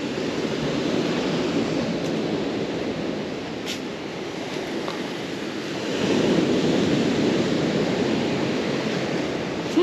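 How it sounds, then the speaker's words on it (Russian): Gentle Black Sea waves wash steadily onto the shore at Lazarevskoye, Sochi, on a cool, calm morning, a continuous soft roar of surf with a slight swell midway and some wind on the microphone. "Легкие волны по-прежнему еще есть, но это там, можно сказать, и не волны, просто шумят громко."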